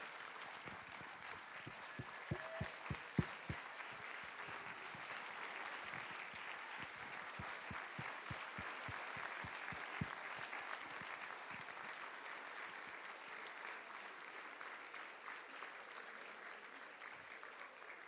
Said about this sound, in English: give all the farmers really a round of applause